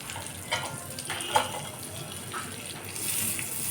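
Butter with a little regular cooking oil sizzling in a pan for chow mein, a soft, continuous frying hiss with a few faint pops and a slightly louder wash toward the end.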